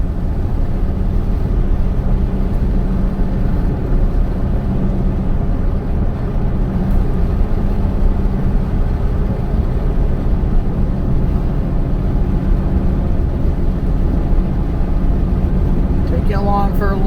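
A car drives steadily along an unfamiliar country road in the middle of nowhere, a constant loud rumble of engine and road noise throughout, with a brief higher chirp near the end.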